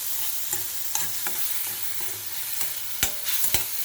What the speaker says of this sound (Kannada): ಈ ರುಬ್ಬಿರೋದನ್ನು ಹಾಕ್ತಾಯಿದ್ದೀನಿ ಇವಾಗ ಇದನ್ನು ಬಾಡಿಸ್ತೀನಿ